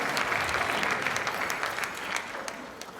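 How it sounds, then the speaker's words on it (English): An audience applauds loudly, steady clapping from many hands that stays strong throughout and tapers off slightly at the end. "Let's give them another round of applause."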